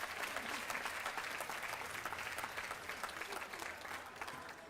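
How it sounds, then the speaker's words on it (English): An audience at a community breakfast event claps together, a sustained, dense patter of many hands that stays fairly even, then tapers slightly near the end. "Yeah, we can clap for that."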